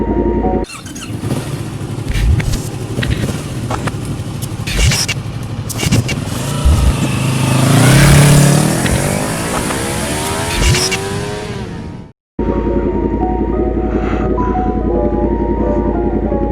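A 2019 Yamaha MT-10 motorcycle rides along with steady engine and wind roar throughout, swelling louder midway, then cutting briefly before a sustained engine hum resumes; no talking.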